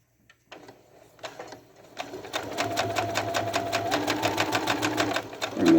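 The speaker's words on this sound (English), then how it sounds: "take it over to our sewing machine. And sew down the line again." Sewing machine stitching pieced quilt fabric along a seam, a steady rapid mechanical chatter that starts after a few hand sounds and runs continuously, close and fairly loud.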